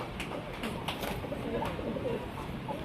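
Pigeons of a pedigree sabja pair coo repeatedly at close range, their low throaty calls over a steady background hum.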